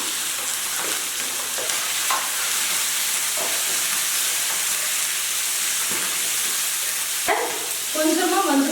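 Chopped chicken liver, pre-washed with turmeric and salt, fries in a pan with ginger and garlic, giving a steady, close hiss of sizzling oil with occasional soft clinks, and a voice briefly speaks near the end.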